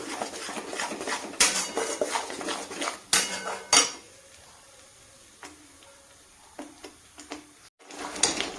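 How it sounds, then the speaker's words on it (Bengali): Paste of poppy seed, onion and green chili being stir-fried in a pan, with repeated metal spatula scrapes and clinks against the pan in irregular bursts, loudest early on, then quieter with occasional taps. "এবার সব দিয়ে সুন্দর করে এটাকে এবার একটু কষবো।"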